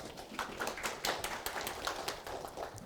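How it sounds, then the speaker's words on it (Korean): Applause from a conference audience before a talk on design optimization technology, a steady patter of many hands clapping at moderate distance, fairly soft and continuous for a few seconds with no talking over it. "예, 박수 좀 부탁드리겠습니다."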